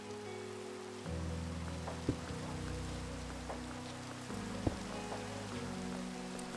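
Rain falling in the video game Minecraft, a dense continuous patter with a low droning hum underneath and a couple of sharp ticks.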